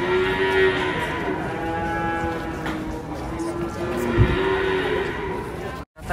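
Cattle being unloaded from a truck give several loud, drawn-out moos one after another, with a short thump in between and busy background noise.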